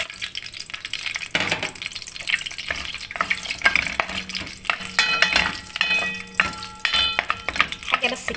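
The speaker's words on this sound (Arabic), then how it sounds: "وننزل بقى بالمقادير كده في الزيت السخن عشان ايه ريحتهم بس تطلع معانا اهما" Whole spices, cinnamon sticks and dried lemon among them, fry in hot oil for a red Saudi kabsa, giving a soft continuous sizzle broken by clinks and stirring scrapes of a spoon in the pot.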